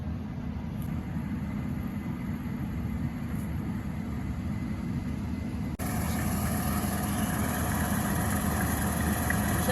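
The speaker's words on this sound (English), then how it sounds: "you're going to see a big old harvester come on up over the hill here" A Case IH combine harvester with a big draper head on the front comes up over a hill, its engine a steady, loud low rumble throughout that grows brighter and fuller partway through as it draws nearer.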